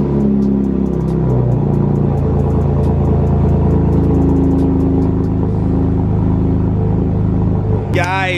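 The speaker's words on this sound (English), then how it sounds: "show you guys a cold startup on a 328 E92 with a resonator delete and" Loud, deep exhaust rumble from a BMW 328 E92 cold start with resonator and muffler deleted, a steady close drone that drops to a lower idle, with a brief sweep at the end.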